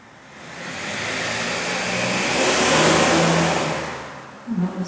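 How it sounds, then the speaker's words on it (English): A car engine passes through heavy traffic, swelling from a low rumble to a loud, near roar and then fading away over a few seconds. "That was heavy traffic, wasn't it?"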